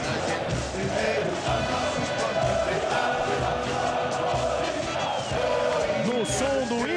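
Corinthians football fans in a stadium celebrate the 2012 Libertadores title, a loud, dense roar of crowd chanting and cheering that carries on without a break, with voices mixed in.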